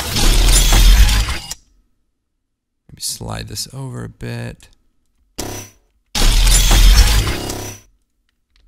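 Metal blade category sound effects from the MotionPulse pack for Video Copilot, heard as two loud bursts of sharp, shattering metallic texture with an electric edge at the start and end, with brief talk between them.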